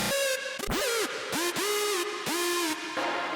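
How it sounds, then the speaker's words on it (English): A synth lead mangled by the Deep Blue glitch effect stutters and warps, its sustained tones chopped with abrupt cuts, pitch dips and bends, loud and alone without drums. "I wanted to do like an effect where it really sounds like it's being destroyed, so it sounds like this with the deep blue glitch"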